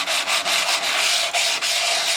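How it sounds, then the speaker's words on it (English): Rocks scraping across grit during hand polishing, a steady close-up rasping with brief dips and repeated strokes, continuous and fairly loud, no voices. "you can hear and you can feel on these rocks as it's scraping across the grit here"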